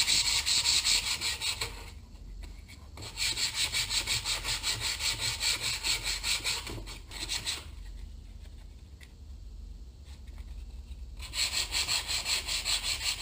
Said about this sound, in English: now for the fun part, sanding and painting.